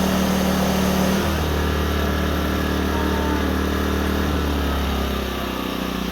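Small off-grid cabin generator with its eco throttle switched off, engine running loud and steady close by, pitch jumping up near the start and settling into a constant drone.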